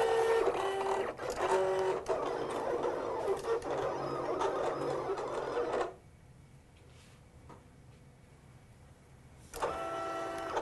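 An electric craft cutting machine works through heat transfer vinyl, whirring and humming loudly with rapid carriage moves, then dropping to a faint hush for several seconds before the motor noise returns.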